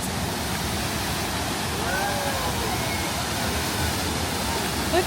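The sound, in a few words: Sauniatu Falls waterfall in Samoa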